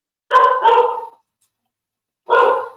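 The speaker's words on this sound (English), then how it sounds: "sorry about my dog in the background." A pet dog barks in the background of a remote meeting call, giving two quick loud barks, a pause of about a second, then one more bark, with no talking over them.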